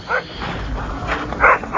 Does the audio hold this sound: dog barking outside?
yes